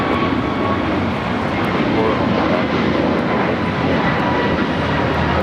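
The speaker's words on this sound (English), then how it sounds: "That was American Airlines 2850 taking off to Philadelphia on the A321neo" An American Airlines Airbus A321neo takes off from LAX bound for Philadelphia, a loud, steady broadband jet roar holding strong throughout at close range, with people talking faintly underneath.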